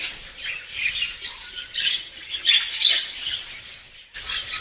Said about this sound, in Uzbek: Mana qushlarimiz bolalar.